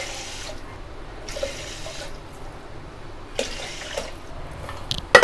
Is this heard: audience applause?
no